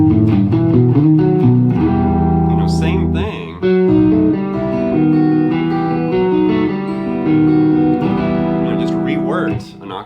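An effects-laden electric guitar plays a melodic lick an octave lower, sustained notes and bends ringing loud and close with a short break near the middle.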